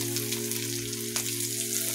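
Red amaranth greens with fried onions hiss and sizzle steadily in a hot pan, a low, continuous frying noise with a steady hum beneath it.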